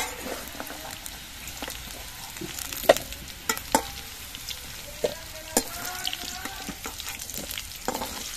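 Potato pieces fry in oil in a wok, keeping up a continuous soft sizzle and bubbling broken by sharp spatters and occasional stirring clicks.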